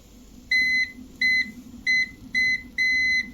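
A car sounds five sharp electronic beeps in an even repeating pattern, each a steady clear tone with short gaps between, over a low background hum.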